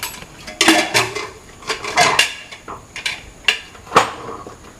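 A steel pressure cooker of mutton head curry is opened after the steam has gone, giving a run of close, sharp metallic clanks and rattles from the lid and vessel at irregular intervals with no voices.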